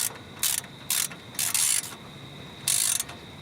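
A ratchet wrench tightens a bolt on a car's upper ball joint, giving four quick bursts of rapid clicking separated by short pauses, close-up and alone.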